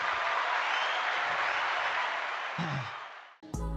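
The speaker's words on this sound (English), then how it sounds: "We'll give a round of applause for both gentlemen there." A thick wash of crowd applause for two debaters on a livestream holds steady, thins slightly, then cuts off abruptly before a different sound begins.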